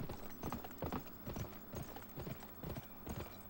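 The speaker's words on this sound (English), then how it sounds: "You do have a horse, so you can get through this pretty quickly." Horse hooves gallop in the video game Gun, a steady rapid clip-clop of repeated hoofbeats, close and clear, with no talking.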